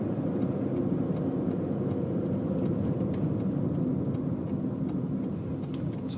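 A car driving in third gear at just under 20 mph, its engine giving a steady mid-low hum and road rumble heard from inside the cabin. The sound stays even throughout and no one speaks.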